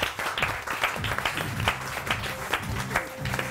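A studio audience on a Pakistani morning show claps as a doctor guest arrives, a dense patter of many hands mixed with loud cheering and a background music bed, no clear talking.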